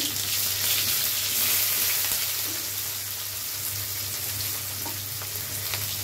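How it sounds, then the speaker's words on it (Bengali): Chopped onion hits hot oil already tempered with five-spice seeds and sizzles in a steady, close, rain-like crackle that eases slightly partway through. "ফোড়নে দিচ্ছি 5 ফোড়ন, এবার একটু পেঁয়াজ কুচি,"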